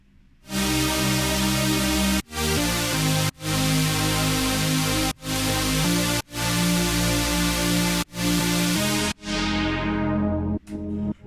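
Sustained synth chords change every second or two with short gaps between them, loud and bright, ending with a fading chord and two brief stabs.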